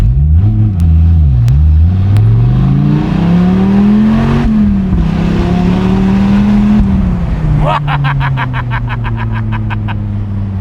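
A Dodge Viper's big engine revs while driving, its pitch sweeping up and down through several gear changes, loud and close, with a sharp burst of rapid pops near the end.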